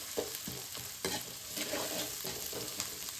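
Onions and green chillies sauté in a pan for a vegetable kuruma, making a steady close sizzle broken by regular stirring scrapes, with no talking.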